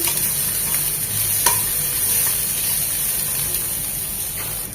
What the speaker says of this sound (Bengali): আমি পেঁয়াজটা একটু নরম করে নিলাম